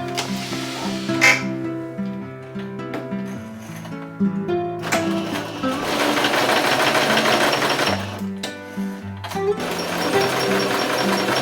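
A sewing machine stitches quilt pieces together, its motor running in steady bursts with brief pauses between runs, fairly close and loud with no talking.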